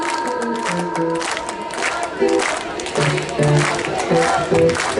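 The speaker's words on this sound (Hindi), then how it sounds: "अब जोरदार ताली होनी चाहिए" An audience at the Surajkund international fair's Jammu and Kashmir Sufi music stage claps and cheers, crowd voices shouting over scattered applause, the noise swelling louder in the second half.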